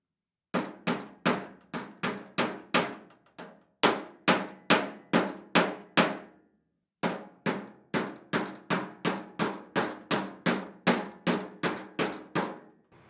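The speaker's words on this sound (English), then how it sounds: "we will keep hammering this thing around" Hammer blows strike a sheet metal door skin in quick, even runs, with about two dozen sharp ringing hits close by and a few short pauses between bursts.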